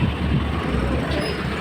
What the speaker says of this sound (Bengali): চলে গেল ট্রেন।